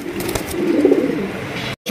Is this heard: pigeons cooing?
yes